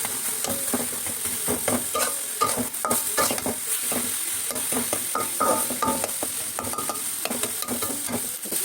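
Pea greens (koloi shak) and brinjal fry in a pan, giving a steady close sizzle that runs through the whole stretch, with repeated scraping stirs on top. Nobody speaks.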